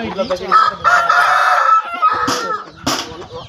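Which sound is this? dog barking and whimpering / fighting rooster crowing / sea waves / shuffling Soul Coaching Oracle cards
fighting rooster crowing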